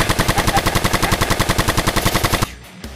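Video game gunfire: a fast automatic weapon fires a rapid, evenly spaced burst of about twenty loud, close shots for over two seconds, then stops abruptly into quieter rustling.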